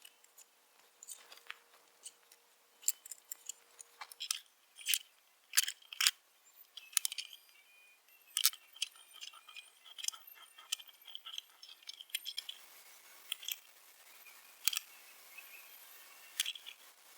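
Scissors trim fabric over the speaker grille of an antique-style internet radio, a series of quiet, close, irregular snips and clicks over about seventeen seconds.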